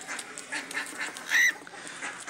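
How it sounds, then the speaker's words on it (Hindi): Ducks just let out of their cage head toward water, giving short, scattered nasal quacks and honks, one louder call standing out midway, over faint outdoor background with no speech. "ये हमारी डक्स जनाब आ गई हैं, पिंजरे से आज़ाद होते ही यार ये पानी की तरफ जाती हैं।"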